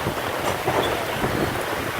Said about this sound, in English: Whipped up a little storm here. It's pouring down rain.